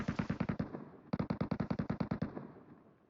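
Automatic gunfire in the video game PUBG Metro Royale: two rapid bursts of sharp, evenly spaced shots, the first about a dozen rounds and the second longer after a brief gap, loud and close, with no talking.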